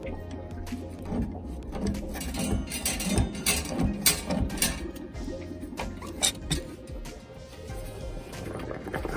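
Irregular wet gurgling and bubbling from a hot water heater draining, with faint clicks and patters, steady and close, no talking.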